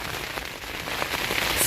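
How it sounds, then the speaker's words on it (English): Rain patters densely on a tent during a storm on the Continental Divide Trail, a steady close hiss of drops with no voices. "it started to rain"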